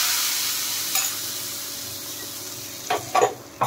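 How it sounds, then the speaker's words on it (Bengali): Hot spiced tempering poured into a palak dahi curry with pakoras crackles into a steady frying hiss, with a few sharper sizzling bursts toward the end, close and moderately loud. "দেখেন ফোড়নটা আমি কারিতে ঢেলে দিলাম"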